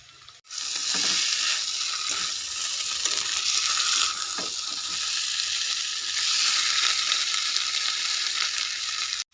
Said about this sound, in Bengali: এখন আমি আরও 4 মিনিট ভেজে নেব